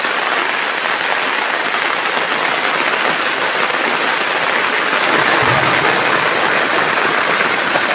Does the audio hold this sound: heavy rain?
yes